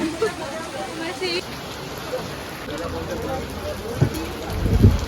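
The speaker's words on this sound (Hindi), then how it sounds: "बहुत तेज़ बारिश हो रही है।" Rain falls steadily, pattering on a nearby surface as a constant wash of drops, with a few louder knocks near the end.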